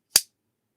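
A 3D-printed clapper snaps shut once with a single sharp, loud clap that decays quickly, followed by silence.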